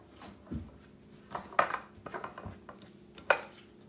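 Flour dough being mixed in a bowl, soft scraping and stirring punctuated by a few light clinks of a utensil against the bowl, close and quiet with no talking.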